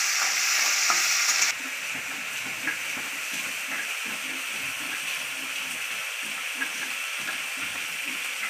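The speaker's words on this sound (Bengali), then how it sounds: "ভেজে নিচ্ছে, লাল লাল করে ভেজে নেবে। ভাজলে কাঁকড়াটা সিদ্ধ হয়ে যাবে" Crab pieces frying in oil in a pan, a dense steady sizzle with rhythmic scraping and clacking as they are stirred, close and continuous throughout with no speech.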